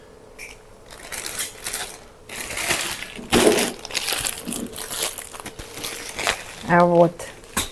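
A plastic bag crinkles and rustles in bursts as freshly kneaded beshbarmak noodle dough is pushed into it, close and fairly loud, with a short vocal sound near the end.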